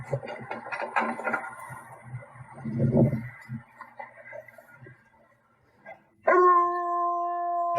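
A hound dog barks and yips in a quick burst of several calls, followed by a long sustained baying howl, heard as playback from a device in a room.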